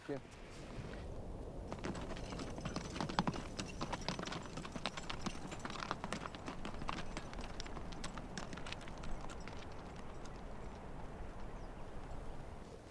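Appaloosa-type horses walk with steady, rhythmic hoof clip-clops that stay faint and distant, with muffled voices in the background.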